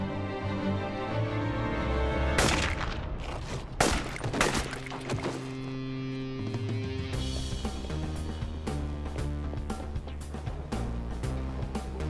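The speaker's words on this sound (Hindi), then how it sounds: "बस गोली चलाओ" Gunfire in a Hindi-dubbed Hollywood action film, Decommissioned: sharp, loud shots crack in bursts and single reports over a tense, sustained music score, with no talk.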